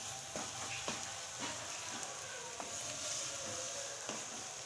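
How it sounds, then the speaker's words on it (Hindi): Kachnar qeema with kasuri methi fries in a pan while a spoon stirs it around, giving a soft continuous sizzle with faint scraping taps from the spoon. "चारों तरफ से चम्मच हिलाते रहेंगे ताकि ये अच्छी तरीके से भून जाए"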